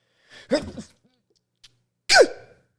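A single sharp sneeze bursts out after a moment of quiet, preceded by a brief vocal sound and a faint click.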